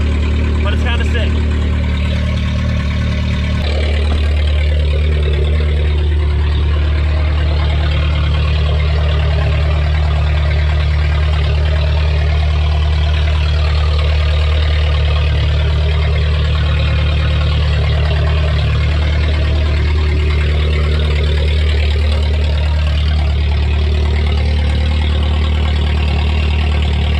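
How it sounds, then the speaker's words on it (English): A loud 1.8T-swapped VW Golf 3 engine idles with a deep, steady low rumble through the whole stretch, a sharper rise near the start, while a person talks over it. "This car is so loud, but it's kind of sick."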